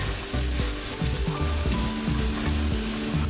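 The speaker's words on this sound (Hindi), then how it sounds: "अब इसमें ऐड करेंगे ये फाइन चॉप किया हुआ अनियन और इसे भी सौते कर लेंगे" Finely chopped onion and garlic sauté in hot oil in a pan, a loud steady sizzle with the rhythmic scrape and clack of a spoon stirring close by.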